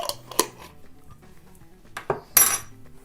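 A few sharp clinks and scrapes of a utensil against a bowl while stirring herring tartare, scattered and close, with quiet gaps between the strokes.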